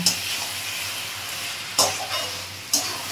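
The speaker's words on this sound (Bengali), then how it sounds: "এরকম বন্ধুরা ভালো করে নাড়াচাড়া করে নিলাম" Banana flower curry (mocha ghanto) stirred in a pan gives a steady moderate sizzle, with two distinct scraping clinks of the spatula against the pan. No speech is heard.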